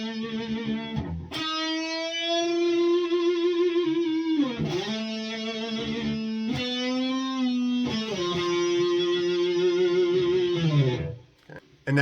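Distorted electric guitar lead playing an outro without a pitch shifter, long sustained notes with slides and bends between them, loud and continuous with no voices.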